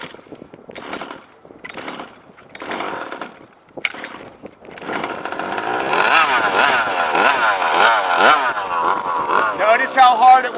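A methanol-fueled engine is cranked with several short sputtering attempts, catches, and then runs rough and raspy with revving pulses, loud and close, while someone talks over the starting attempts.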